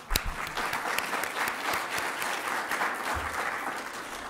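Audience at a climate change conference opening at Griffith University claps to welcome a government minister, a steady, moderately distant patter of many hands that fades slightly toward the end.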